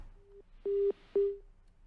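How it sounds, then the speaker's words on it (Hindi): Telephone disconnected tone during a Hindi news broadcast call: three short steady beeps, the first faint and brief, the next two louder and longer, with a short gap between them, no talk. "शबाना का फोन डिस्कनेक्ट हुआ है"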